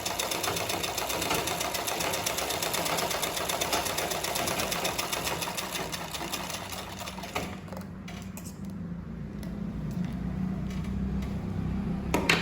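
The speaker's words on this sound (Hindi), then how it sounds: "अब हम अपने सामने के गले को भी सिल लेते हैं" Sewing machine stitching the front neckline of a blouse, a loud steady mechanical whir with rapid needle rhythm that slows and eases off partway, then resumes more softly.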